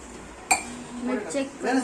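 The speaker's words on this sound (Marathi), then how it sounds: "कुकरला ढक्कन लावायचं" A lid is set on a pressure cooker while making dal khichdi, with a sharp metallic clank followed by lighter clinks of pots and utensils, under soft kitchen talk.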